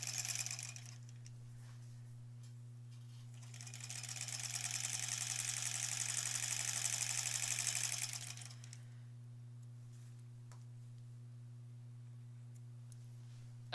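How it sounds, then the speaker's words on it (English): A sewing machine runs steadily for about four seconds, stitching quilt strips together for the back of a granny squares quilt, its fast even whirr rising and then stopping over a constant low mains hum. "I'm going to sew this to this next strip."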